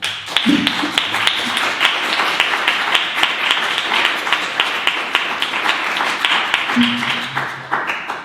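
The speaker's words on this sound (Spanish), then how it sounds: "Primero, hemos dado un aplauso, Gabriela." Audience at a community conference in Chantada applauding steadily, dense continuous clapping from a room of people at moderate distance, lasting throughout with a few louder individual claps near the start.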